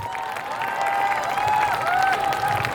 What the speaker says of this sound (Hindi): सभी के लिए जोरदार तालियां हो जाए